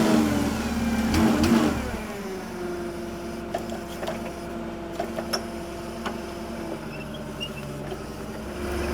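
A $400 forklift engine revs loudly at first, then settles into a steady mid-pitched running drone as the machine drives, with faint rattles and knocks over it.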